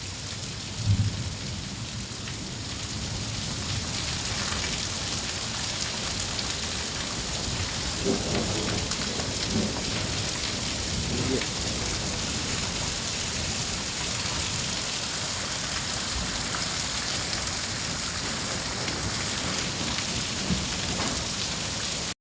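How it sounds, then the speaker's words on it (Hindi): Heavy monsoon-like rain pours down steadily in a dense, loud hiss over a Himalayan village near Gangolihat, Pithoragarh, Uttarakhand, with a low rumble of thunder early on and no voices. "ये बरसात में जैसी बारिश होती है, नदी नाले वाली बारिश हो गई है।"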